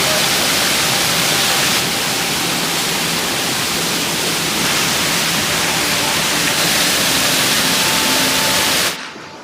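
Areekkal Kunnu waterfall in heavy monsoon rain, a loud, unbroken roar of falling water heard close up that cuts off abruptly at the end.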